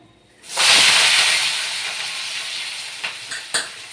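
Onion and tomato hit a hot pan of cumin and chillies with a sudden loud hiss that settles into steady close sizzling, with a few clicks of the spoon toward the end.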